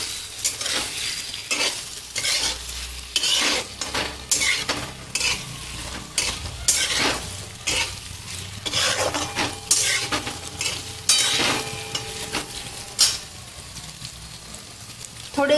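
Boiled, finely diced potatoes are stirred and sautéed in hot oil, with repeated scraping utensil strokes against the pan over a steady sizzle, close and fairly loud.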